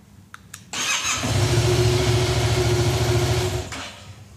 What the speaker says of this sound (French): Après avoir allumé mon moteur